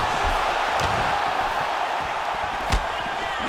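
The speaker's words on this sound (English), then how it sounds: "you hear the crowd react every time they come together" A dense arena crowd in the UFC 4 mixed martial arts video game holds a steady, loud roar throughout, broken by a single brief thump near the end.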